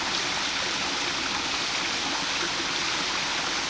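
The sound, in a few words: creek cascades flowing below arch bridge at Chimney Rock Park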